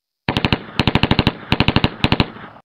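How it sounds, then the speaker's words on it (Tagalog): Rapid bursts of automatic gunfire, four short volleys of sharp, loud shots in quick succession with brief pauses between, close and alone. "ang alingaw-ngaw ng putok ng baril mula sa hindi kalayuan"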